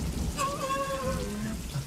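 Steady rain hiss from a scene in the Star Wars film The Empire Strikes Back, running through the whole stretch, with a tonal film sound gliding over it and voices underneath.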